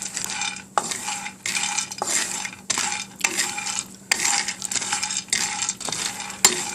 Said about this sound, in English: just keep stirring them around until they start to brown, but not burnt